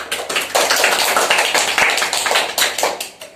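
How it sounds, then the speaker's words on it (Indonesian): A classroom of students claps together, a fairly close burst of many hands that rises quickly, holds and then thins out toward the end. "Beri tepuk tangan."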